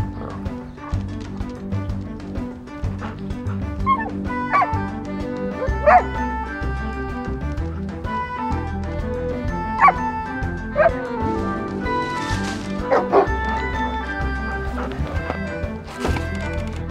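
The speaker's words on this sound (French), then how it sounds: "C'est quand même le chien le plus discipliné du monde" A dog barks, yips and whimpers over a steady low rumble, with sharp yelps scattered through the stretch and a few louder bursts near the end.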